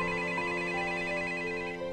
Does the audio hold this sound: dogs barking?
no